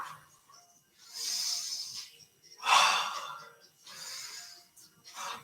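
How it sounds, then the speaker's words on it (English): Heavy breathing during a beginner HIIT workout break, with several long, breathy inhales through the nose and exhales through the mouth in a slow, even rhythm, close and clear. "Big inhales, in through the nose, exhaling out through the mouth"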